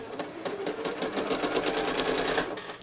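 A sewing machine stitches quilting lines into fabric with a rapid, even mechanical chatter of needle strokes that runs continuously at moderate volume.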